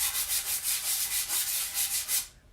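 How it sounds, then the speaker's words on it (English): Sanding disc rubbed back and forth over a wooden gnome door tag, a close, steady series of rasping strokes in a regular rhythm, about ten passes before it stops abruptly, with no talking. "So we're going to go ahead and sand this. I have my little sanding disc here."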